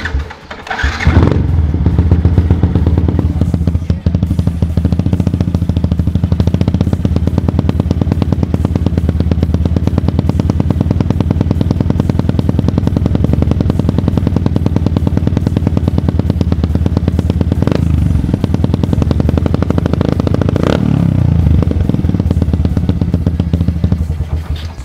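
A Yamaha FZ16 motorcycle bored out to 190cc, with an aftermarket Paulusi exhaust, carburetor and filter, starts up and idles loudly and steadily, a deep, even rumble with occasional blips of the throttle.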